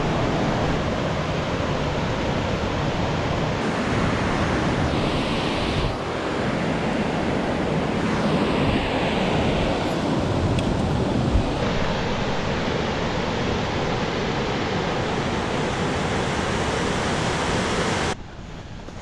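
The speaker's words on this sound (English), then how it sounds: "I hear more water" Constant rushing water roars close by in a northern Wisconsin state park, a dense steady wash with brief swells and wind buffeting, no voices.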